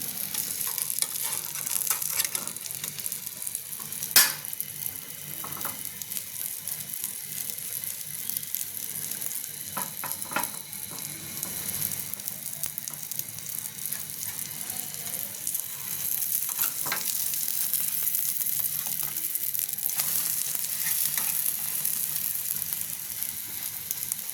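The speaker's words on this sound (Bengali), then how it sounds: "একটা ডিম অমলেট করে ফেলছি এটা খাবো এখন" An egg omelette fries in a pan with a steady, close sizzle and occasional sharp clicks and pops, and no voices.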